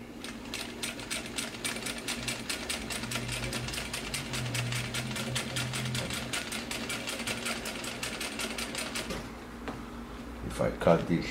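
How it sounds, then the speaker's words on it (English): A single-needle sewing machine converted to a walking-foot setup for stitching multiple layers of leather or vinyl runs steadily with a fast, even mechanical rattle, then stops near the end with a few handling clicks. "The sewing machine is on"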